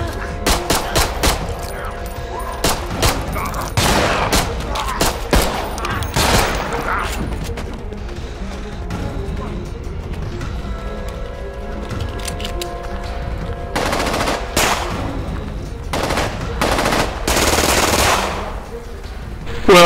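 Dense automatic gunfire from the zombie video game Contagion bursts in rapid volleys, loud and close, with heavy clusters early and late and a calmer stretch in the middle, while voices talk underneath at times.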